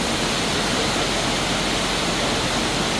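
Waves rolling in at the shallow end of a wave pool at a thermal spa in Slovakia, a loud, steady broadband wash of churning water with no gaps, close and continuous.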